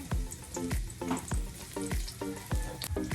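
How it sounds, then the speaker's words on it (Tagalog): Onion rings frying in a hot pan, a close, continuous sizzle broken by regular soft stirring scrapes about every half second, with no talking. "ilagay na natin ang um, onion rings na sobrang mahal na million na ang ano"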